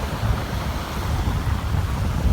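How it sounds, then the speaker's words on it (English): Strong wind roars across Biloxi Beach in Mississippi as surf breaks nearby, a loud, continuous rushing buffet that batters the microphone with no voices present. "The wind sounds too bad."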